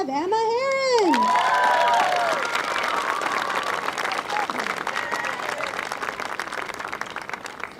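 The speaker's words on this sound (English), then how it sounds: "Big round of applause for the girls U16 Tournament 11." Crowd at a field hockey national tournament cheering and clapping, opening with loud whoops and shouts that fade into sustained applause, close and dense throughout.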